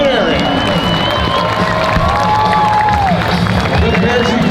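A large outdoor air show crowd cheers and shouts continuously and loudly throughout, a steady wash of voices with whistles rising over it.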